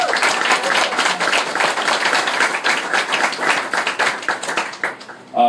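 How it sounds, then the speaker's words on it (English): A lecture audience applauds steadily in a room, a dense, moderately close round of clapping that holds for several seconds and then thins out abruptly near the end. "yeah, let's give them a round of applause."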